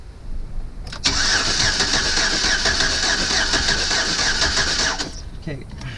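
A Chevrolet Silverado with a misfire cranks steadily for about four seconds during a cylinder-by-cylinder test, a loud continuous whirring drone that starts and cuts off abruptly.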